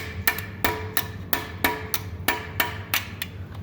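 A hammer strikes sharply and evenly, about ten metallic blows in a steady rhythm close by, used to push up a piston during an engine teardown.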